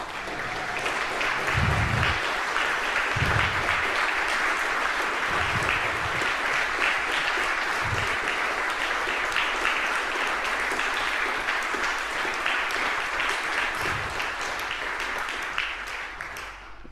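An audience at the ACT Australian of the Year Awards ceremony gives award nominees a long, steady round of applause. The dense, even clapping continues for the full stretch with a few soft low thumps.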